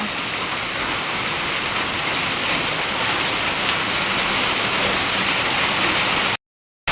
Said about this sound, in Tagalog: Oho po ang ulan.